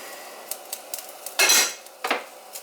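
Onions, mushrooms and celery are stirred in a metal pan, with a utensil scraping and clinking against the pan in a few scattered knocks and one longer, louder scrape, all close by and with no talking.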